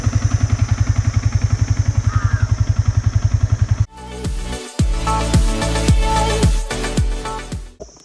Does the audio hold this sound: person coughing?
no